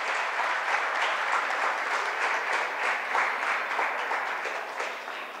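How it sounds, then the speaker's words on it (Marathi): Enthusiastic audience applause for Suvarnatai at a Women's Day 2025 event, dense continuous clapping from a large crowd lasting over five seconds at a steady level. "एकदा अजून जोरदार टाळ्या सुवर्णाताईंसाठी."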